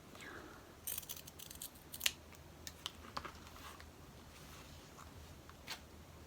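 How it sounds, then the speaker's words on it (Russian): Scissors snip through fabric pieces cut from old jeans, giving a quiet, irregular run of sharp crisp clicks close to the microphone, with a few louder snips and no talking. "Вырезаю без припуска."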